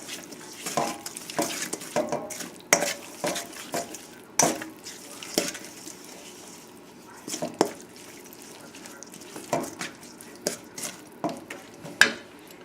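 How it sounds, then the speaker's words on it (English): A spoon mixes a salt and pepper seasoning into a dressing for an avocado and potato salad, making a steady run of soft wet stirs and clicks against a bowl, close and fairly quiet. "We'll just mix this up."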